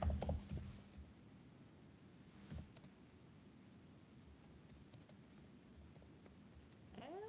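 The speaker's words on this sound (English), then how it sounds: "Let me type it here." Soft, sparse keyboard clicks come from typing on a computer keyboard in a quiet room, with a short cluster of keystrokes at the start and a few isolated taps later. The sound is faint and close, with no speech.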